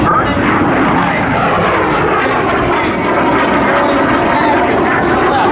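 Airshow airplane flying low overhead after takeoff at the Laredo WBCA Stars & Stripes Airshow, a loud, sustained engine roar that holds steady throughout, with an announcer talking over it.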